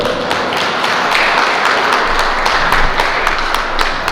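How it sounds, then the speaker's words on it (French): A church congregation applauds its pastor during an evening service, a dense, steady wash of many hands clapping at close range for several seconds, with no voices over it. "Applaudissons pour notre pasteur."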